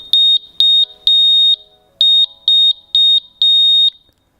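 An audible skydiving altimeter's break-off alarm, a shrill high-pitched electronic beeping in clusters of short and longer tones, loud and close, with no other sounds.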